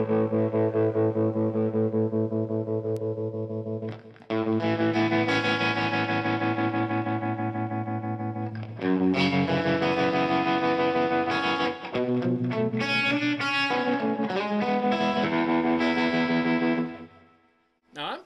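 Electric guitar chords pulse with a wavering, throbbing bias tremolo effect from a RevivalTREM pedal, sustained and loud, the pulsing speeding up as the playing continues.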